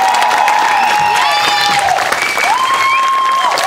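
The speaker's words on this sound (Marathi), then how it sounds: "जोरदार टाळ्या" A studio audience at a Marathi comedy show applauds loudly and continuously. Gliding tonal sounds, like voices or music, carry on over the clapping.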